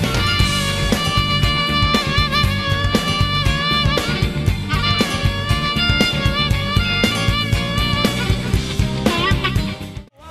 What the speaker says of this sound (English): The harmonica plays a blues-style solo in second position,